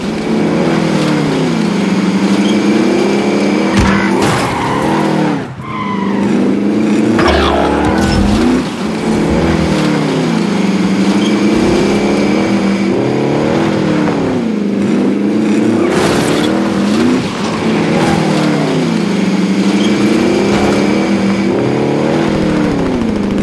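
A car engine in Call of Duty Warzone drives steadily throughout, its revs rising and falling in repeated waves of acceleration with a few sharp bumps or impacts along the way, loud and close.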